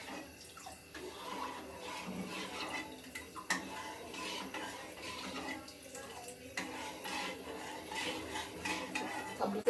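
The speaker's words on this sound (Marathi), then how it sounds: "घट्ट होईल तोपर्यंत हलवायचं" A spoon stirs and scrapes thickening batter for suralichi vadi inside a pot with a steady clatter of utensils, and faint background noise runs throughout.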